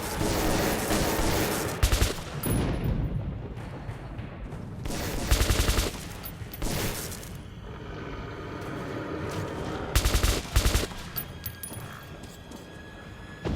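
Gunfire from the video game Metro 2033 Redux, with rapid automatic bursts and single shots crackling over a dense, rumbling game soundscape, loud and close with repeated volleys.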